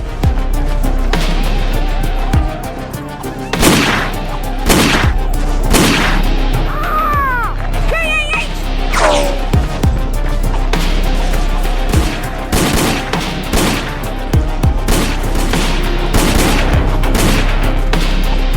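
Rapid volley of gunshots in a dramatized battle scene, repeated loud sharp cracks fired in bursts across the whole stretch, over a continuous low rumble with brief shouted voices in between.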